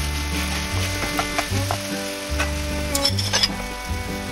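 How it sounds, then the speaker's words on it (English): Marinated beef frying in cooking oil in a pan for a beef, broccoli and carrot stir fry, a steady close sizzle with scattered clinks and scrapes of utensils against the pan, no talking. "I would now transfer the marinated beef and fry this for about 8 to 10 minutes"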